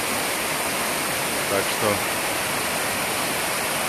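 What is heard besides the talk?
waterfalls in the Agara river gorge, Adjara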